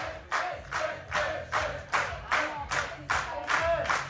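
A crowd at the Nemšová fair claps for a band, steady rhythmic claps in time, roughly two or three per second, fairly close and loud with no voices over them.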